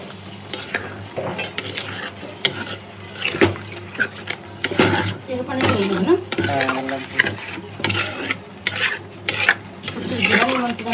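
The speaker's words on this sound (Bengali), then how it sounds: "আমাদের শুটকিটা খুব সুন্দর করে ভাজা ভাজা করে কষাচ্ছি" Dried small fish being stir-fried with garlic and potato in a pan, a spatula scraping and clinking against the metal in an uneven rhythm, close and fairly loud, with sizzling beneath.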